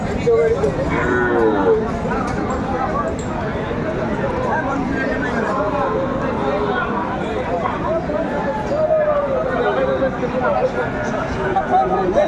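Sahiwal bull calves low among a busy cattle market crowd, several moos surfacing through continuous chatter and nearby voices.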